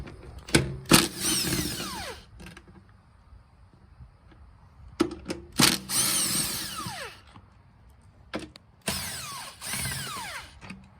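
A cordless power tool whirs in three bursts, winding up and spinning down as it removes the screws of a Yamaha Raptor 700 ATV intake box, with pauses and faint clicks between the runs.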